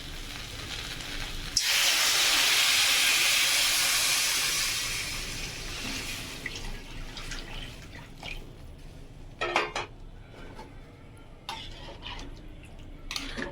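Water is poured into a hot pan of fried fish with elephant foot yam, taro and potato, setting off a sudden loud hissing sizzle that swells and slowly fades, followed by a few sharp clinks and scrapes.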